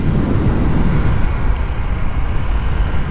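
Honda PCX160 scooter on the move, a loud, steady broadband rumble of engine and road and wind noise throughout, with no clear distinct brake squeal standing out.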